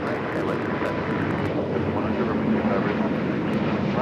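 An airliner in Wicked Witch livery at LAX sends out a sustained engine roar at moderate level, with talk underneath.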